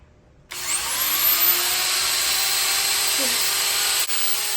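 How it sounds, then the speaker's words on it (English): A heavy-duty Dremel rotary tool spins up on its lowest setting during a vivarium build, a steady high whine starting abruptly after a moment of quiet and holding evenly, with a brief dip near the end. "So I literally have this massive heavy duty Dremel tool."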